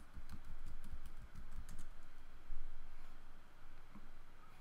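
Fingers tap a password quickly on a computer keyboard, a close, steady run of crisp keystroke clicks with short pauses between bursts.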